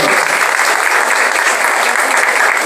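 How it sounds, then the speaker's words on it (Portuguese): Audience at a municipal council ceremony in Barbalha giving steady, close, loud applause, a dense even roar of clapping hands throughout. "De uma grande salva de palmas para Rosário."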